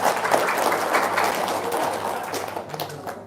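An audience at a live talk breaks into dense, lively applause. The clapping is loud at first and gradually thins out over a few seconds, with no clear speech over it.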